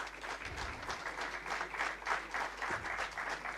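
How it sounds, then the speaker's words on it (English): Audience applause at a business school convocation ceremony, a short burst of dense, even clapping from a crowd that holds steady throughout. "Round of applause."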